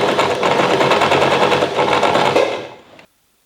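A sewing machine stitching along the top of folded fabric rectangles, a loud, close, rapid whirring run that stops abruptly near the end.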